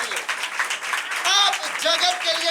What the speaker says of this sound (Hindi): जोरदार ताली बजाएं अपने लिए